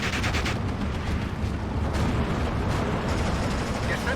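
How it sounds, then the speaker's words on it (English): Artillery guns fire continuously in a World War II battle in the Steel Division 2 strategy game, set in Poland in 1944. The fire blends into a dense, steady rumble of overlapping blasts at a constant loud level throughout, with no talk. "We do have our 2 guns firing away at the approaching Poles."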